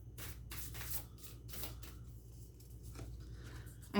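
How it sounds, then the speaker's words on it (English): Thick oracle deck cards being shuffled by hand, a soft, repeated riffling and sliding in quick bursts, fairly faint and steady with no talking. "My Oracle deck cards are thicker. It's harder to shuffle."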